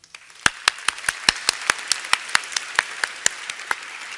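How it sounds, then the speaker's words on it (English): An audience at an academic signal-processing conference awards ceremony gives a round of applause. The clapping is thin and sparse, with a few loud, distinct claps standing out in a quick rhythm, as if only a small number of people are clapping. "let's have one more round of applause for our young authors"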